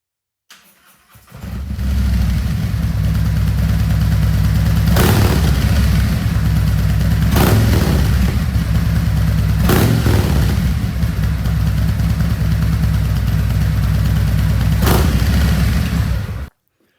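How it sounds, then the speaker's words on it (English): A 2019 Harley-Davidson Street Glide CVO fitted with a Stage 3 kit starts up and idles with a deep, loud, close rumble, broken by four sharp throttle revs that rise and fall back to idle before the engine cuts off. "So when I rev it, I mean, the bike definitely shakes more than it did before."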